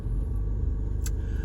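A worn 2011 Kia Soul 2.0 gasoline engine idles with a steady, heavy low rumble that sounds like a diesel, continuous and close, with a brief faint high tick near the end.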